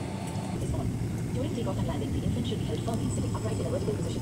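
An airliner pushes back before takeoff, heard from inside the cabin as a steady, low engine rumble. Passengers murmur in the background throughout.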